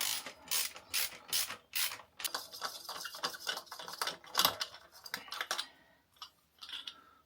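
A ratchet turns a 10mm 12-point star socket to remove a brake caliper on a Harley-Davidson Sportster XL1200. Close, crisp clicking comes in quick bursts of repeated strokes with brief pauses between them.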